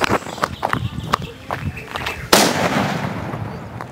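Rapid crackling pops of small Sivakasi firecrackers, then a loud burst with a lingering hiss and crackle fading off.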